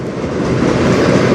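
A CN freight train passes on the Strathroy Subdivision, its loud, close rumble of rolling cars building slightly and holding steady with no voices.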